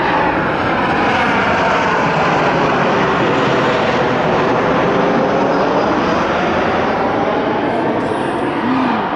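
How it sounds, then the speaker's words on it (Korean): A loud, continuous roar of an airplane engine passing overhead a park in winter, steady and dominant for the whole stretch. "비행기 지나갔어."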